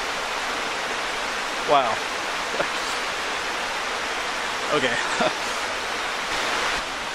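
A forest stream rushes with steady broadband water noise, loud and continuous, while a person's brief surprised exclamations break in over the flow.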